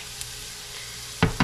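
Soft steady sizzle of onions sweating in a pan during freezer-meal cooking, followed by two sharp, loud clattering bursts right at the end.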